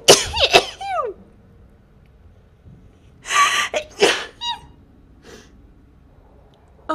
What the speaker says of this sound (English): Best part of that sneezing fit?